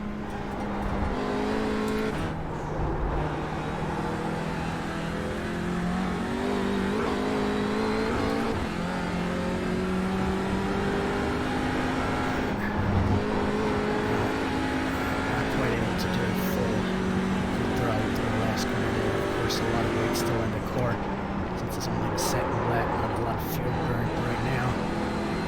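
An Audi RS3 LMS TCR race car engine in iRacing at Road Atlanta, droning and rising in pitch through long pulls with gear shifts and brief drops, steady and prominent from start to end.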